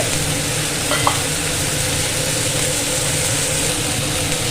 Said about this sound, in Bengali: মশলাটা একটু ভাজা যাবে